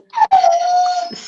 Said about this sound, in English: Second by the howling husky.